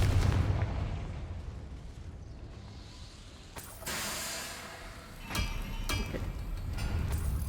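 A Confringo spell goes off in Hogwarts Legacy with booming, crackling blasts, followed by several sharp cracks and rumbling mechanical clatter, loud and close throughout.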